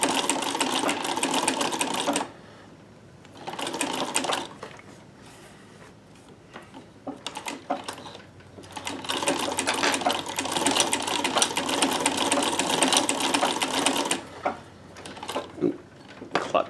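A sewing machine fitted with a Davis vertical feed scallop plaiter attachment, running in loud, fast, steady stitching bursts close by, separated by pauses with small clicks and handling noises.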